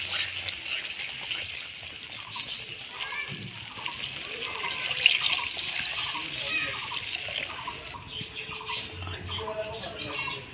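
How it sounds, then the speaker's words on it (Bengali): Water poured into a pan for a Bengali tilapia fish curry, a continuous gushing splash with kitchen clatter and someone talking over it, ending in quieter sizzling. "জল ঢেলে দেব।"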